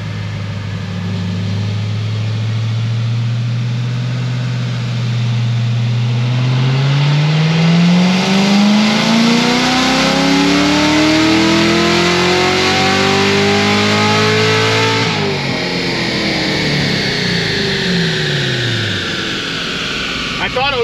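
Chevrolet Corvette C7 Z06 with headers and an air intake on a dyno, its engine rising in a loud sustained pull from low idle to high revs, then cutting off and winding down.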